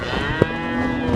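A Holstein Friesian cow at the large HF cattle market in Karimangalam gives one short, fairly close moo over a steady background hum of the crowded market.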